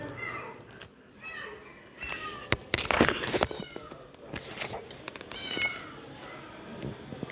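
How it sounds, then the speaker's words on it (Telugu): A cat meows repeatedly near a parked car, with several drawn-out, fairly close cries mixed with people talking and some handling noises. "పిల్లి అయితే కార్ లోపలికి పోయిందో తెలియదు"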